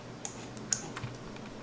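Light typing on a computer keyboard during Archicad GDL modelling, a few sparse, crisp key clicks spread irregularly, close but soft, with no speech.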